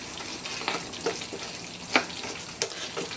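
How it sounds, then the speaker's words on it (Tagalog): Shrimp and squash simmering in coconut milk in a pot, a steady close bubbling and sizzle with occasional pops and light stirring clicks, no voices. "Pabayaan pa natin kumulo hanggang sa maluto yung ating hipon at kalabasa."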